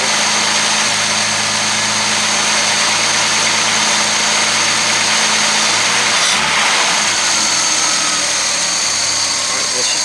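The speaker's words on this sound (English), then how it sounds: "Great 6-cylinder." An old six-cylinder engine, a cross between a Jaguar and an MG, idles steadily and close by, with a constant low rumble and a faint rise in revs near the middle.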